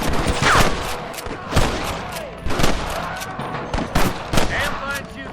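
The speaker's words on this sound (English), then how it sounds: "Damn fine shooting, boys." Gunfire in the video game Red Dead Redemption: a rapid, loud fusillade of overlapping shots with sharp cracks and booming reports, a voice heard briefly amid the shooting.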